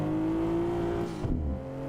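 A car engine hums steadily in a racing simulator game, driving through a school zone, then shifts pitch briefly near the end before settling again; no talking.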